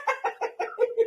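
A person's voice imitates a duck quacking, making about six short, rhythmic quack-like calls in quick succession, close and clear with no other sounds.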